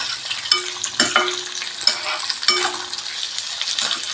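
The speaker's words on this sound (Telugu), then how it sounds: "ఇవి బాగా ఫ్రై అవ్వక్కర్లేదు, కొంచెం ఫ్రై అయితే సరిపోతుంది" Capsicum pieces lightly frying in a pan for baby corn Manchurian make a close sizzle broken by repeated clinks and scrapes of a utensil against metal, with no one speaking.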